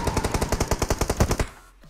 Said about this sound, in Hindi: भाई साहब फायरिंग देख रहे हो, मतलब पूरी स्क्वाड मार रही है, MG3 M4 AK-M जो है सबसे